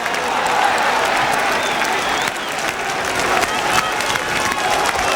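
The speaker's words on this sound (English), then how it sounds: "generous applause for 2 good sweeping moves there by Queen's Park Rangers" A large football stadium crowd applauds steadily for several seconds at a Queen's Park Rangers match, a broad wash of clapping with scattered shouts and murmurs mixed in.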